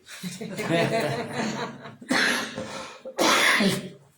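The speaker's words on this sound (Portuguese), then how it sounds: "deu até tosse" A few bursts of coughing mixed with chuckling, three separate spluttering outbursts close to the listener, spaced by short pauses.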